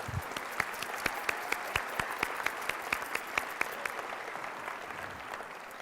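A graduation audience claps quietly from a distance, scattered individual claps standing out sharply over a soft, even wash of applause that thins toward the end.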